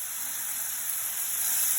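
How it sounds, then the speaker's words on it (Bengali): Onion fries with salt in a hot pan, giving a steady, bright sizzle that stays fairly even and close from start to finish. "লবণটা দেওয়ার কারণ পেঁয়াজটা তাড়াতাড়ি ভাজা হয়ে যায়"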